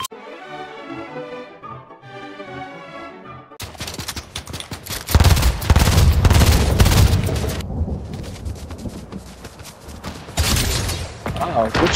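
Sniper gunfire in an online shooter match: sharp, loud reports and crackling volleys burst in after a few quiet seconds and keep rumbling and repeating, with voices talking over the action.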